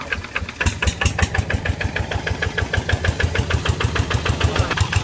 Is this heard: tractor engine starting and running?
yes